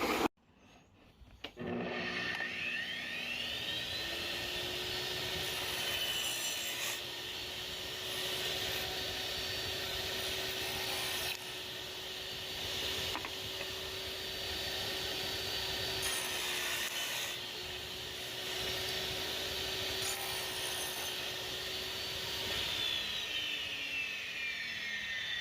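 A table saw runs steadily through oak as a board is pushed across the blade with a miter gauge in two passes, a loud, continuous whine with a faint rubbing rasp of wood over a humming motor.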